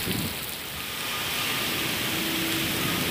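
Heavy rain pours steadily during a road traffic jam by an unfinished flyover, a dense, constant hiss that fills the scene, with a faint low tone in the background and no talking.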